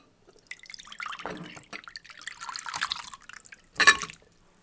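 Plum pickle brine strained from a freshly opened jar, dripping and trickling into a plate in a home kitchen, with a few light splashes and a louder pour near the end, close by and with no talking.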